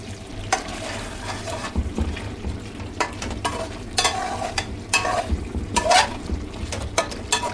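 Meat and fried potatoes stir-fried together in a pan, with a steady sizzle and repeated scraping strokes of a spatula through the mixture, close and continuous with no talking.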